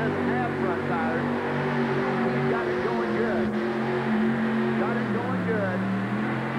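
A monster truck with an '87 body and a 496 GMC motor makes a pull at an Anaheim USHRA event in 1988. The engine roars loudly and holds its tone for the whole stretch, with pitch shifts as it revs, under a commentator's voice.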